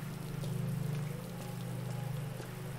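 Rain falling in Resident Evil 2 Remake makes a steady, soft hiss over a continuous low hum, quiet and unbroken throughout, with no voices.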